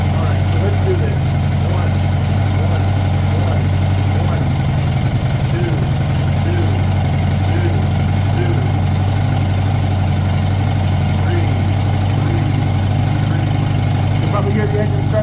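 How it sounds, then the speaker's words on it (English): A Honda CB750 motorcycle engine idles nearby with a steady low throb and continuous mechanical rumble, loud and unbroken throughout. "The engine's starting to climb a little bit."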